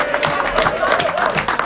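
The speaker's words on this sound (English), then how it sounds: "big round of applause for Ricky Stout," Rugby club audience applauding a returning player after a serious pre-season injury, with dense, steady clapping filling the room and a crowd murmur beneath, no clear break.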